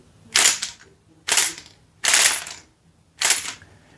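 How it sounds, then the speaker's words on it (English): A ROKR AK-47 model rifle, a wooden mechanical kit, fires in four sharp snapping bursts at roughly even intervals, loud and close with no talk. "it fired two. Sometimes you'll get that where it'll fire more than one at a time."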